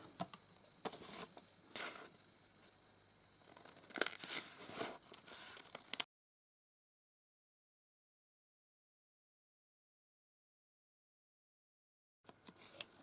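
Scissors cutting out a paper purse pattern along a seam allowance: a string of close crisp snips and rustling paper, then several seconds of silence before a brief return of paper handling.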